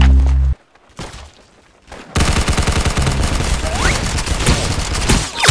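Gunfire in the Roblox game Arsenal, loud rapid bursts of synthetic shots and impacts layered with game effects and music after a short pause, dense and continuous, close and punchy.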